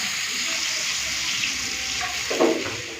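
Water poured into a Bengali pabda fish curry with potatoes cooking in the pan, a steady hissing splash that swells near the end and runs alone without talk.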